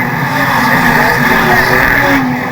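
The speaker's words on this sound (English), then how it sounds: "but Danny Sutton right in front of 294 gets spun around" A loud race car engine roars close by with a sustained tire squeal as the car slides, a continuous burst lasting a few seconds.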